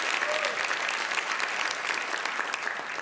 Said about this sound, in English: I'm tempted to ask you all to give them a round of applause too.